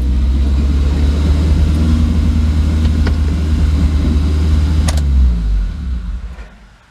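A cheap Chinese truck engine runs at a low, uneven idle, reportedly firing on three cylinders, giving a steady close rumble that fades away at the end; no one speaks.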